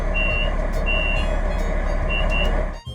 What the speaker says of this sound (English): with specific guard buzzers for Voyagers